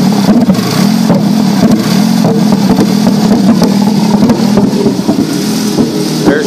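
Engine of a 2011 Kia Optima SX with a broken intake, revving loudly and steadily up close, its rough drone rising and falling slightly across the whole stretch.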